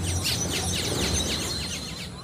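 Several birds chirp and trill in rapid overlapping calls at a family house rest area with hammocks, steady and fairly close over a low ambient hum, with no talking.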